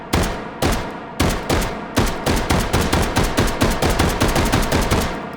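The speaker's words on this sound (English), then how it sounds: "take some shots." Rapid automatic gunfire from a Luger carbine, the artillery Luger, fed by a 32-round snail drum in the VR shooter H3VR, opening with a few spaced shots and then settling into a steady, loud burst of close, sharp reports that runs until the drum empties.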